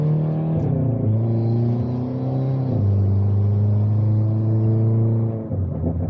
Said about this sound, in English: Definitely gonna miss this downpipe.